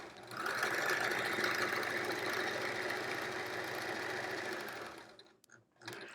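A sewing machine stitches quilt pieces for a triangle-pattern quilt at full speed, a steady loud close whir running for about five seconds before it stops, followed by a few faint handling clicks.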